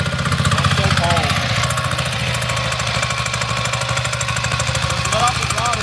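A diesel-powered off-road trike engine runs loud and close with a rough, steady chugging and knocking, while people talk briefly over it.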